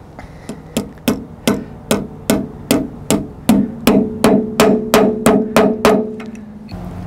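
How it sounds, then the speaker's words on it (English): Steady hammer blows flatten metal tabs while fitting a fuel tank, striking about every third of a second, sharp ringing hits one after another, loud and close, with no talking. "we're just going to wedge it in here and hammer them flat"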